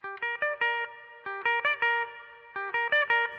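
Clean guitar picking a quick four-note pattern, repeated three times with brief pauses between, bright and close with slight effects coloring.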